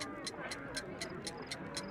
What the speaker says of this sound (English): A fancy ticking homemade gift from a secret admirer.